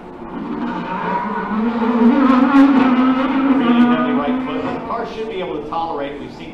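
An IndyCar race car powers out of the slowest corner on a street circuit, its engine note rising steadily and loud for several seconds, with a commentator talking over it.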